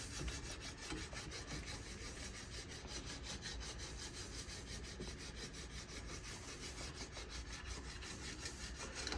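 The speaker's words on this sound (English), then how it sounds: "I prefer to use this dry, as long as all of your surfaces are clean and there's silver plate on it, just burnishing it." A burnisher rubbed dry against the silver-plated surface of a 1903 King cornet, giving a steady, continuous scraping friction with fine rhythmic strokes throughout, fairly quiet and with no talking.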